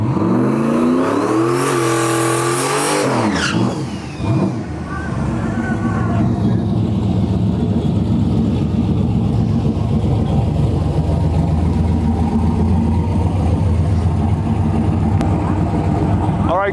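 A turbocharged LS-powered Foxbody car makes a drag run, its engine loud and close at first, rising in pitch as it revs and launches, then fading into a steady distant roar while a commentator talks over it.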